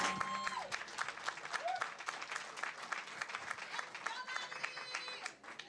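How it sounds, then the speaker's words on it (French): Live audience at a Christmas party podcast taping in Québec clapping for a guest, sustained crisp applause with a few voices and whistles mixed in over its full length. "On l'applaudit."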